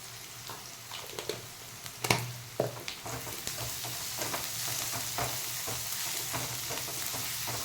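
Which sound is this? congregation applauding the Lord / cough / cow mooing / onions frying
onions frying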